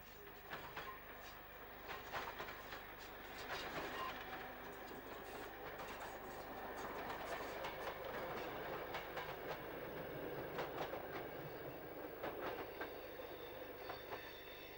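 In 1986 at Birkenhead North, a British Rail electric multiple unit in LMS livery rolls past, its wheels giving a steady, rhythmic clickety-clack over the rail joints at a moderate distance.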